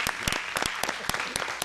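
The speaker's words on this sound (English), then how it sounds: "I was gonna clap now." A small group at a parish council meeting claps steadily for a moment, irregular sharp hand claps close up with a busy room murmur underneath.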